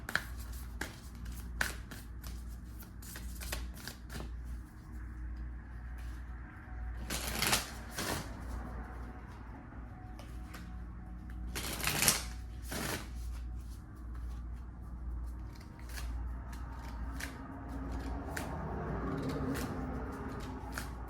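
A Moonology oracle card deck being shuffled nearby in a quiet room: repeated riffling flutters and crisp card taps, with two louder bursts of shuffling, then soft handling noises toward the end, with no talking.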